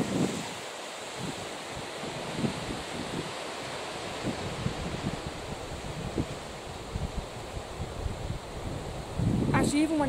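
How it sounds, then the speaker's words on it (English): Gusting wind during Storm Ellen in a kitchen garden, a continuous rushing roar with buffeting bursts against the microphone and rustling, swelling louder near the end. "When the wind drops for a moment, it feels perfectly pleasant."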